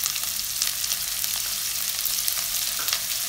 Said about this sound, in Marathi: आणि हे आपण 5-1 मिनटं चांगली भाजी परतून घ्यायची आहे